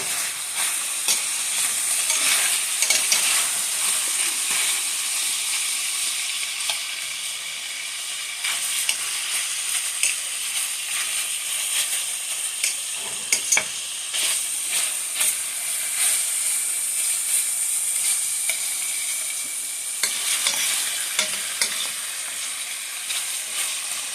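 Spare rib tips sizzle steadily in a hot pan, with bright hissing frying noise and intermittent scraping as the meat is stirred, continuous and close throughout without any talking.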